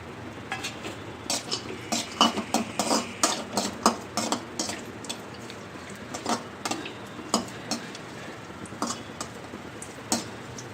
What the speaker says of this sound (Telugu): ఇప్పుడు ఇలా వేయించుకున్నాక ఇవి కొద్దిగా డాళ్ళలో వేగనివ్వాలి.